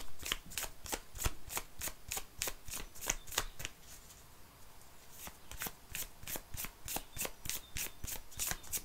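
Oracle cards being shuffled by hand in a tarot-style reading, a rapid run of crisp riffling flicks that pauses briefly mid-clip and then resumes, close and clear with no talk over it.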